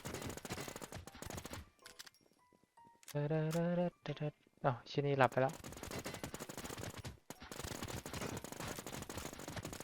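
Video game gunfire from a modded gun with a punchy sound, crackling in rapid automatic bursts at the start and again through the second half, with excited voices talking in between.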